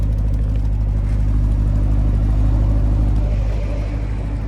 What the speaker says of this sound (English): Nice aggressive sound from the exhaust as well.